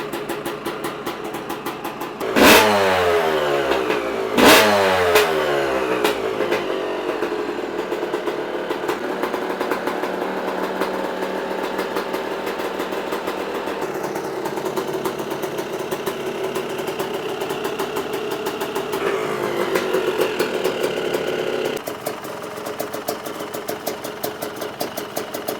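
A Yamaha YZ250 dirt bike engine with rich jetting, close by, blips twice in quick sharp revs, then settles into a low, uneven, burbling two-stroke idle that carries on steadily to the end.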